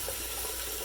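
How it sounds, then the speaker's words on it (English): Hot tap water runs steadily over fingers at a sink, a continuous close hiss and splash with no talking. "I took my fingers and I ran it under the hot water"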